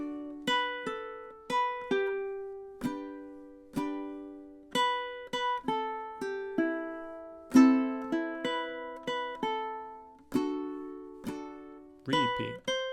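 Ukulele picking a song melody through repeated measures, clear plucked notes in a steady bouncy rhythm, close and solo with no voices.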